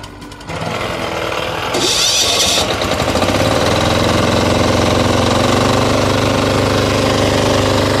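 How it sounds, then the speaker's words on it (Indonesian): A plow tractor engine is started with choke and half throttle, catching after a brief starter burst and settling into a loud, steady, close-up chugging run. "Mesin sudah hidup, sekarang tinggal langsung tekan tuas koplingnya yang ada di depan."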